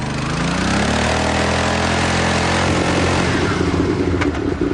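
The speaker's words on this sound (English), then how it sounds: "To save weight, the Works Fireblade does without a starter motor, so to get it going requires a slave engine and a highly trained engineer." Works Fireblade racing motorbike without a starter motor, spun up by a separate slave engine; a loud, close, sustained engine drone with rising harmonic pitch, running continuously without pause.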